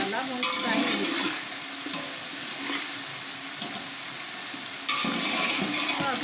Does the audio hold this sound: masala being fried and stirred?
yes